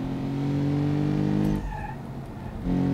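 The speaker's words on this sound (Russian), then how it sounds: "Я слышу, где-то там кто-то пробуксовывать пытается." Car engine and tire noise in the driving game BeamNG.drive, with a steady loud engine drone and a short squealing wheelspin burst in the middle, then the engine resumes.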